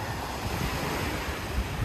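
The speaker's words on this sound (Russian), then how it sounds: "вы послушайте шум прибоя" Surf breaks on an empty sandy beach at Sudak, Crimea, after a heavy downpour. A constant, loud, full roar of waves mixes with wind buffeting the microphone, and no voices are heard.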